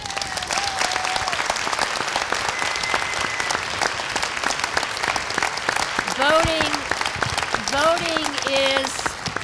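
Applause from the audience at a New York 23rd District Democratic congressional debate, loud sustained clapping filling the room, with voices calling out over it near the end.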